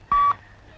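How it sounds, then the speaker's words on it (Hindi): A single short telephone dial tone beeps once, clear and close, as someone phones a guest house, followed by faint room noise. "ए पीढ़ी, गेस्ट हाउस को फोन करो।"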